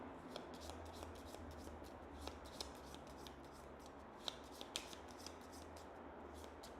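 Playing cards from a board game being shuffled by hand, a run of quick riffling and sliding snaps with a few sharper clicks, close and fairly quiet.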